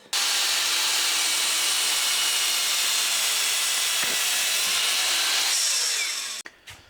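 Power saw chopping at an angle through a wooden guitar neck blank for a fabric-topped NF-53 style Telecaster, a loud steady whine running about six seconds before stopping abruptly.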